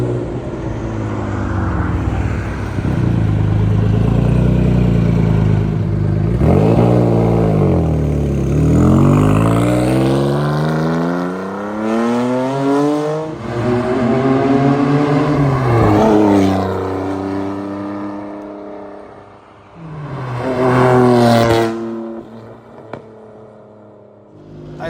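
A 1994 Jaguar XJ-220 turbocharged engine, heard from the passenger seat, swells and falls through loud revving pulls with rising and falling pitch, carrying a fluttering turbo wastegate note between throttle lifts.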